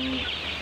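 A brief cluck rises from chickens on a poultry farm holding about 400 birds, heard faintly against steady background noise.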